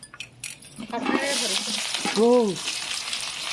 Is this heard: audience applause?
no